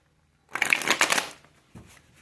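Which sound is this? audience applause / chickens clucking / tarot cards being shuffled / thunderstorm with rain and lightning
tarot cards being shuffled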